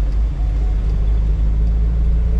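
Aspirated Chevette driven at night: a continuous low engine drone and road rumble from inside the car, steady and fairly loud throughout the short stretch.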